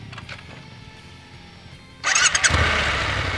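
A Triumph Scrambler 1200X twin-cylinder motorcycle cranks over after a quiet moment and bursts into a loud, close idle that keeps running to the end.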